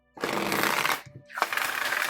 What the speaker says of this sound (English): let's get some shuffles in and see how they do